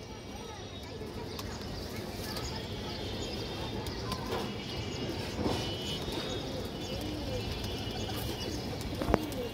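A pair of Bezi pigeons coo softly amid busy background noise, with someone talking over the low calls throughout.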